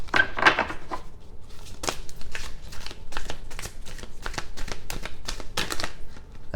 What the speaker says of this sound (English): two more shuffles, and then I will pull from the top.